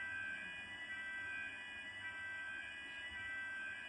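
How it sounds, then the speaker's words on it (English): A fire alarm rings steadily and faintly in the distance inside a lecture hall, a continuous high electronic tone that holds without a break. "If that is the real fire alarm, we will walk out."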